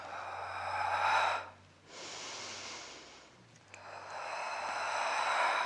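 Strong, close breathing during a Pilates exercise, with two long airy exhales separated by a quieter pause and a steady low hum beneath them.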